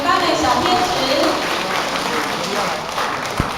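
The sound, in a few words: audience applause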